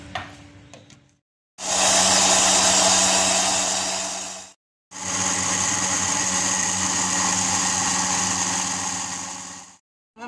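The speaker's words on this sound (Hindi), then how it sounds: "अब हम इसमें और दूध डालेंगे और इसको ब्लेंड करेंगे।" A blender whirs loudly, blending banana and milk with more milk added for a milkshake, in two long steady bursts separated by a brief pause, with no talking.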